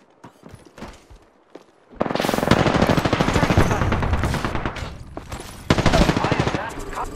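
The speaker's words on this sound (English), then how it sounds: "The enemies are shooting at me." Heavy automatic gunfire from enemies in a video game, a sustained loud barrage of rapid bursts after a quieter start, with a brief lull and another strong burst near the end, under occasional voices.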